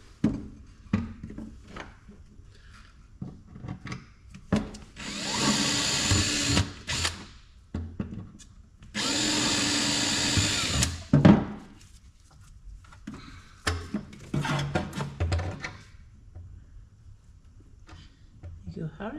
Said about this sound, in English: left-handed drill bit.